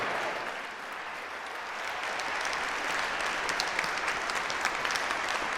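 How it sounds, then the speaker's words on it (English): Round of applause from a church congregation during a Sunday service, sustained dense clapping that swells slightly and keeps going throughout, filling the room evenly. "I think they deserve a round of applause"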